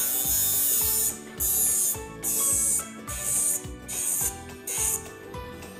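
A homemade grinder built from an old hard disk motor spins a saw blade, giving a steady mechanical whir with bright, pulsing bursts repeating about once a second, close and loud with no talk.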